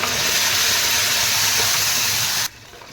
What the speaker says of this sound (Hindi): अब मैंने इसमें डाल दिया जीरा, और मैं डाल दूंगी पिसी हुई टमाटर की प्यूरी